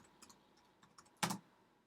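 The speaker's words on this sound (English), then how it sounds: "Oh, see, I'm typing testing." Someone types on a computer keyboard while testing a network setup: a few soft, scattered key taps, then one sharp, louder cluster of clicks, all close and quiet.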